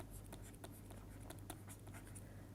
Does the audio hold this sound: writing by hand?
yes